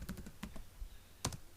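Quick computer keyboard keystrokes while entering text into a PowerPoint slide: a short run of light, close clicks, then a brief pause and a final pair of taps, with no talking.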